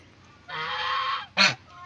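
A Muscovy duck near a brooding nest gives a drawn-out, nasal honking call, then a short sharp second call, close and fairly loud against quiet.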